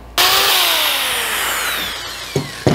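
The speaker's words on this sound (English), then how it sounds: "when you're mixing this with a paddle and a drill, make sure you hold on to your container because that epoxy is thick" A power drill with a paddle mixer churns thick epoxy for a dirty pour over a glass table. It starts abruptly at a loud, close whine that slowly drops in pitch, then gives two sharp bumps near the end.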